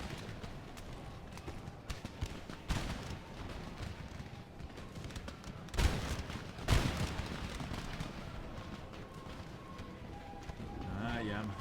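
Musket volleys crackle across an Empire Total War battle (Darthmod), with scattered shots and a couple of louder bursts over a constant din of battlefield noise and distant clatter, while a voice talks throughout.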